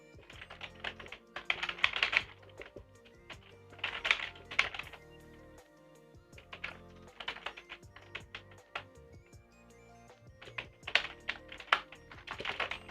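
Someone types on a computer keyboard whose backspace key is broken, with bursts of rapid clicky keystrokes separated by short pauses, close and clear with no talking.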